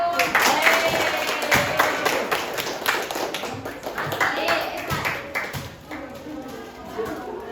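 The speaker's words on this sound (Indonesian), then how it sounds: "Ya, tepuk tangan bersama dulu." A group of students in a classroom claps hands together in a run of sharp, close taps with an uneven rhythm, while people talk over it.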